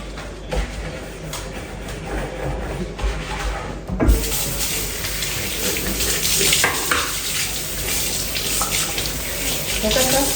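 Water runs from a tap in a steady, rushing stream that splashes into a basin, shifting to a brighter, fuller flow partway through and continuing without pause.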